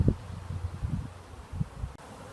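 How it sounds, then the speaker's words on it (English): Bees from a caught swarm buzzing in the air near an oak tree, a low wavering drone with short passes close to the microphone, mixed with light rustling and no speech. "There's also a lot of bees in the air"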